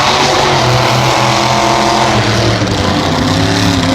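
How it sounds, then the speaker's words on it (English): A loud, rumbling monster truck engine roars continuously during a Monster Jam stadium run, its heavy revving drone dominating with steady intensity, no voices present. "I love the sound of this truck."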